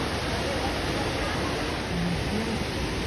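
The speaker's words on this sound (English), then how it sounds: "You can listen the sound of waterfall that coming from that place." Kuntala Waterfall in Telangana, a steady broadband roar of falling water, constant and fairly loud throughout with no clear breaks.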